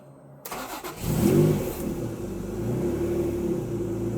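A Honda NSX engine with a failing main relay cranks briefly, catches, and revs up before settling into a steady idle, close by with no talking.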